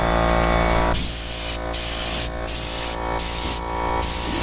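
A spray gun lays a base coat of paint on a Dodge Challenger SRT Hellcat in a booth, sounding as five or six sharp hissing bursts of about half a second each, evenly spaced, over a steady low hum.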